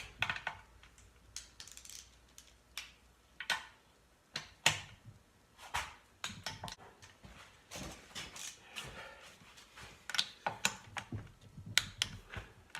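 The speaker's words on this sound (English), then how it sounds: "Gonna torque the oil pan bolts." Ratchet or torque wrench clicking in brief sharp bursts while the oil pan bolts are torqued down on a Perkins 152 engine from a Massey 231 tractor, close and fairly quiet, with no talking.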